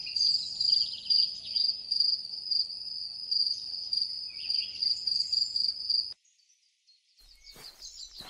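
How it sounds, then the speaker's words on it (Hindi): A steady high-pitched cricket chirping pulses rhythmically and close, then cuts off into near silence before faint scattered sounds return. "रात में सिर्फ झींगुरों की आवाजें"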